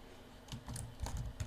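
Fingers type code on a computer keyboard in a quick run of soft, close key clicks with slight irregular rhythm, heard alone without speech.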